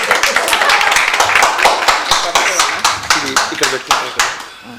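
An audience at a get-together in a hotel claps together in a brisk, dense burst of close hand claps that thins and slows toward the end, with voices mixed in.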